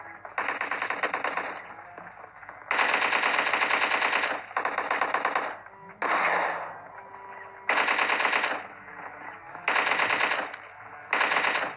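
Sustained bursts of automatic gunfire in a battle royale video game firefight, loud and close, coming in long rapid strings separated by brief pauses and a few single shots.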